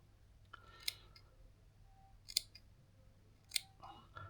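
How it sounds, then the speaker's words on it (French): Scissors snip through an elastic hair weft in three short, sharp clicks spaced about a second or more apart, over a low steady background hum. "Un petit coup de ciseau et c'est coupé."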